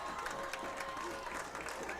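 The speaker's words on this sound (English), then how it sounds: "I'd like to see this Jesup crowd make a little bit of noise" Home crowd at a Jesup J-Hawks high school football homecoming game against Osage, a broad, distant roar of cheering and clapping that stays steady and fairly faint throughout.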